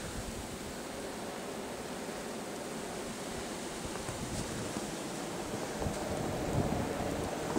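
Wind roars steadily through a dark, snowy blizzard night, a broad constant rush that swells slightly louder toward the end, with no voices.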